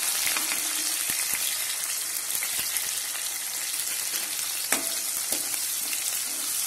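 Green chillies and garlic fry in hot oil in a pan for a puffed-rice chaat, giving a dense, steady sizzle with scattered pops and faint clicks of a spoon.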